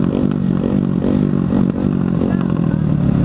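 Two small motorcycles, a Honda Grom and a Kawasaki Z125, racing off from a stop, their engines revving hard and close with rapid gear-change stutters and some clatter, loud throughout.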